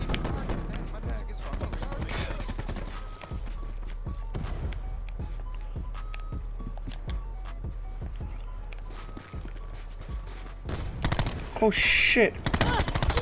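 Rapid bursts of Daemon 3XB MKII gunfire in a first-person shooter game, sharp repeated shots in clustered volleys with pauses, loud and close, with a player's brief exclamation.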